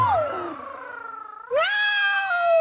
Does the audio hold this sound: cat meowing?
yes